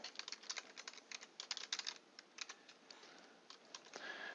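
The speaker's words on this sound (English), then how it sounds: "So I'll start typing in cell G3" Quick, irregular keystrokes on a computer keyboard, typed into a spreadsheet cell in clear bursts and taps with short pauses, close up and with no voices.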